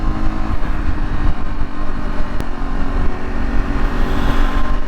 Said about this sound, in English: But the bike seems happy at the moment, it's riding good.